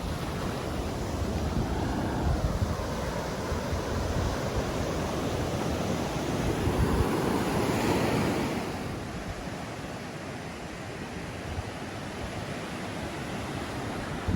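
Ocean waves and wind on a beach make a steady, loud roar of surf that swells slightly and then eases, with gusty wind rumbling across the microphone throughout.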